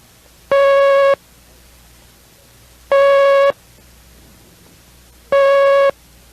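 A single-tone Morse code letter T, sounded as three separate long dashes, each a loud, clean steady beep of roughly half a second, spaced evenly and heard alone against near silence.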